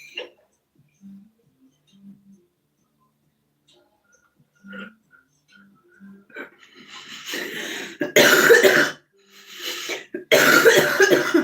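A person coughs in a few harsh, loud bursts toward the end, after several seconds of near silence broken only by faint clicks and small noises.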